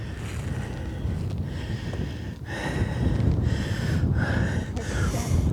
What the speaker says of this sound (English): I'll show you how windy it is.